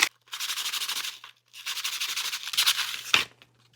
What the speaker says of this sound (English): now I'll go on with the 220 grit sandpaper